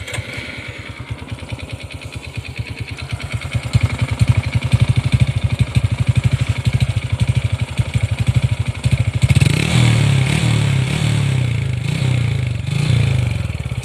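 A Honda Wave 125 motorcycle fitted with a Keyman exhaust pipe idles close by with a steady, rapid putter, then revs up louder near the end and holds a higher throaty note.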